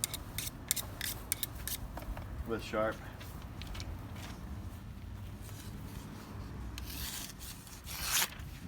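Freshly sharpened knife blade slicing paper after using a knife sharpener, a few brief rasping cuts and scratchy swipes, close and quiet, with a voice heard briefly.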